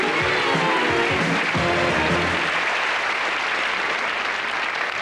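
A studio audience at a British television game show bursts into loud, sustained applause that holds steady for several seconds, with a brief low rumble at the start.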